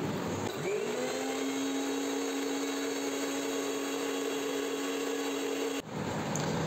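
A blender whirs steadily while mixing mayonnaise ingredients, a continuous close motor hum that spins up at the start and cuts off abruptly near the end.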